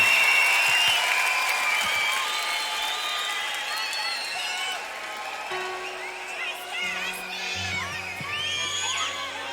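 Applause and cheering from a big concert crowd at an arena show in Amnéville, France, loud and continuous, slowly settling while shouts and whistles poke through, and a voice speaks over it near the end.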